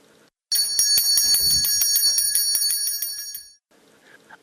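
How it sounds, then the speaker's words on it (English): A bell rung repeatedly indoors in a large old house, a rapid run of bright metallic strikes lasting about three seconds, loud and close, with no talking over it. "Ring the bell."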